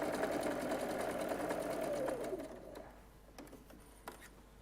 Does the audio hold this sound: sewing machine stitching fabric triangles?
yes